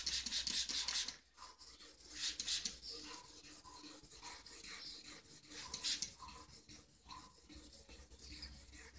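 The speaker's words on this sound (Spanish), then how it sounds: "Yo lo lijo con una 2500 al agua, con un poco de detergente." Steady, rhythmic rasping strokes of 2500-grit sandpaper wet sanding new paint on a Honda CG 125 motorcycle with water and a little detergent, close by and moderately quiet, with no voices.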